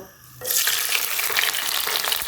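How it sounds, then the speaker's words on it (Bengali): Small shrimp frying in hot oil: after a brief quiet moment, a loud, steady sizzle bursts in and continues without pause, close by and alone. "এখন এই চিংড়িটা ভাজব"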